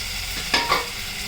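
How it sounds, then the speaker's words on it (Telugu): Chillies and broad bean pieces cooking in a pot for a legume pickle, heard as a faint steady bubbling bed with two brief stirring bursts close together near the middle. "ఇప్పుడు ఉడుకుతోంది కదా, ఇప్పుడు ఇలా ఉడుకుతోంది కదా"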